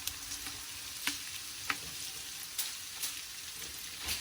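Ingredients frying for goulash sizzle steadily in a pan, with a few sharp clicks of stirring spaced across the short stretch, fairly quiet and close with no talk.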